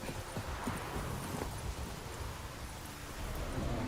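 Roach, the horse in The Witcher 3, gallops with a fast, steady clip-clop of hooves over a continuous rushing outdoor wind bed, fairly close.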